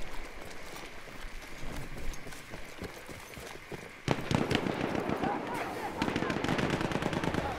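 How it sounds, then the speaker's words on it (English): Battlefield 1 combat with explosions and bursts of gunfire, steady clatter that jumps louder about halfway through and stays dense and close, with a voice talking over the action. "Oh, explosions."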